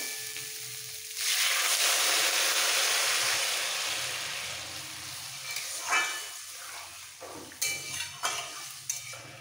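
Hot water poured into a pan of frying okra and potato curry sets off a sudden loud hiss that gradually fades into a softer simmering sizzle, broken near the end by a few sharp clinks of a spoon against the pan.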